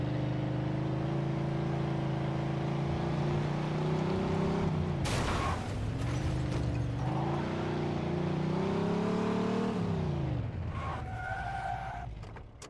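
A 1940s-era car engine in the Mafia II video game, droning steadily as it drives, with gear-shift pitch swings, a rising rev and a brief tire-skid squeal partway through.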